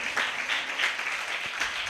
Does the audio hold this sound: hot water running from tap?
no